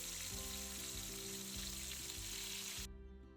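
Loud, steady sizzling of pork frying in hot oil, a constant crackling hiss that cuts off abruptly near the end.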